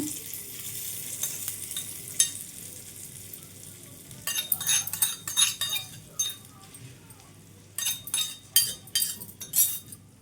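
Stirring a tempering into coriander-stem and tomato chutney in a pan, with soft scraping and clinks over a faint background sizzle, with bursts of louder stirring strokes in the second half.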